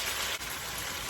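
Cooking water draining out of a pot in a home kitchen, a brief, soft rushing pour with a momentary dip partway through.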